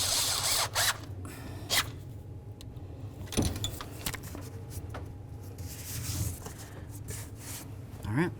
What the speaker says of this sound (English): tighten up this clamp using our 8mm.